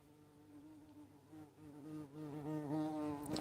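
A large bee buzzes indoors close to the listener, a faint, wavering insect drone whose pitch rises and swells as it circles nearer, with no talking.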